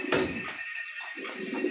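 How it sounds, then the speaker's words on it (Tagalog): Racing pigeons at a loft during a training flight give low, throaty cooing in a couple of soft, rolling phrases, close by over steady background hum. "Ibon natin mga kalapatids."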